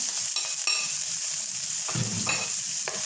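Garlic sautéing in a hot pan for sweet and sour chicken, a steady close sizzle and crackle broken by a few stirring scrapes, with no one talking.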